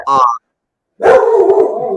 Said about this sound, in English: We cannot be having this Alexis Hania barking stuff going on right now